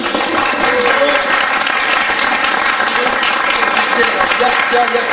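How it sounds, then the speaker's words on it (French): Studio audience at a French television game show applauding, dense sustained clapping from a crowd that holds steady at close range, with a voice faintly beneath it. "Vos applaudissements, mesdames et messieurs."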